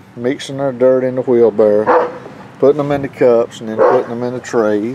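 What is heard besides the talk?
dogs barking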